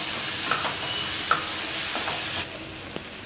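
Soaked poha being mixed with fresh lemon juice in a bowl, giving a steady soft wet rustle with a few small clicks, close and fairly quiet, with no voices.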